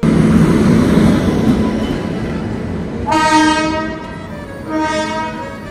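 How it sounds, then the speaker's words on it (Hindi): Inside an Indian Railways passenger train, a steady loud rumble of the moving coach fills the space, and a horn sounds twice from outside, each blast about a second long. "तो ट्रेन के अंदर का ना कुछ इस तरीके का माहौल है"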